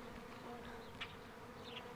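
Honey bees buzz around a newly installed home hive, a faint, steady drone with a few individual bees passing close by.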